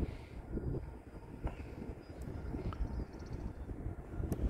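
An E-flite A-10 Thunderbolt II twin 64mm EDF RC jet rolls across bumpy grass after landing, giving a low, uneven rumble with irregular knocks and a faint fan whine, heard close by.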